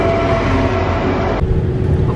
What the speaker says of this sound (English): Here's our train. I think it's one of the double-decker ones